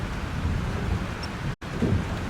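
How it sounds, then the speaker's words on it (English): In the video game Life is Strange, a thunderstorm roars with heavy rain and a deep rumbling of thunder, loud and continuous apart from a brief dropout. "This storm is real."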